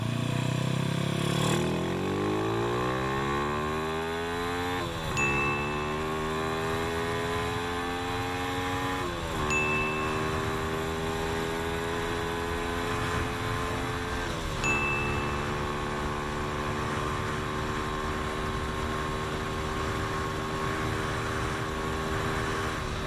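A motorcycle with a thin 415 sprocket set and a large gear ratio accelerates hard through the gears on a short track for a top speed test, its engine rising in pitch again after each shift, loud and continuous.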